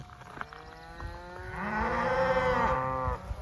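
Cattle in a grazing herd on a pasture farm during a dry July moo; one long, deep, rising bellow swells in the middle, with softer lows and shuffling nearby, and no talking.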